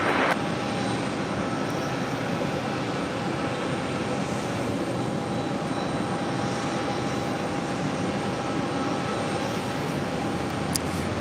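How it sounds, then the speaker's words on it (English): Brussels Airlines Airbus A330-300 arriving on runway 4 right at JFK, a steady broad jet engine roar with a thin whine running through it, heard alone without voices. "Max arrival on 4 right to Brussels Airlines. Flight 501 coming in from Brussels, A330-300."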